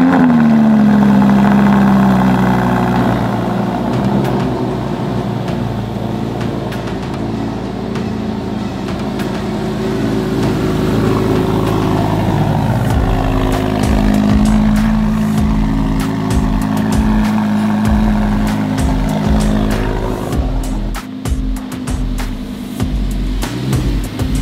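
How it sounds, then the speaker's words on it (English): A brand new 2017 Lamborghini Huracan supercar engine runs steadily and loudly at close range, a deep continuous rumble throughout with slight shifts in pitch and no talking over it. "it's time to pull the brand new 2017 Huracan out and go for my first drive"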